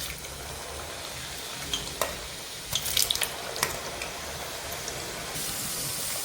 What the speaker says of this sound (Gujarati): તેલ આપણું ગરમ થઈ ગયું છે, હવે આપણે આ શક્કરપારા અંદર નાખી દઈએ